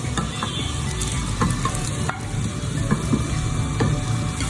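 Chicken pieces go into boiling Manchurian sauce, which bubbles and sizzles loudly and steadily in the pan. Spoon stirs clink and scrape now and then, with no talking.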